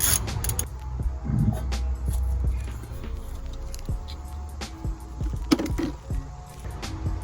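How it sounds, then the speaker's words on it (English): Mechanical creaks, clicks and metallic clunks of a car wheel being pulled off during rotor and wheel bearing replacement, close and fairly steady throughout, with no talk. "Go ahead and remove your wheel."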